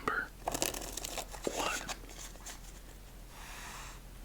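A deck of playing cards riffled and shuffled in quick papery bursts, close by, with a brief spoken word and quieter handling afterward.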